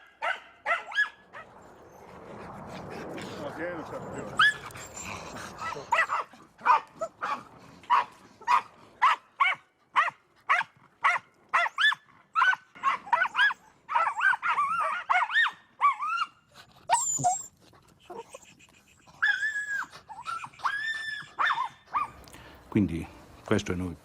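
Dachshunds bark in rapid, repeated yaps with occasional yips and whimpers during a wild boar hunt outdoors, loud and close, with a stretch of rustling near the start and some voices mixed in.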